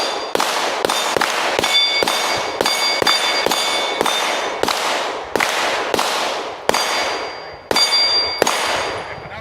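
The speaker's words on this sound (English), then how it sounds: "I just want you to shoot and just get the feel for it" Rifle fitted with a Recover Tactical S-pro stabilizer kit fired repeatedly at a range: a steady series of about fifteen sharp, loud shots, each with a ringing metallic clang and short decay, spaced roughly half a second apart with no talking.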